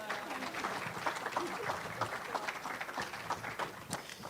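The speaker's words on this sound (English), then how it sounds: "them a round of applause real quick" Modest applause from a small audience at a music and poetry open-mic evening, fairly quiet and scattered claps with murmuring voices underneath throughout.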